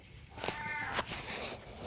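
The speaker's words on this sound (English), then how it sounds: "This is the Wampus Cat." A cat gives a short, faint meow amid quiet room noise.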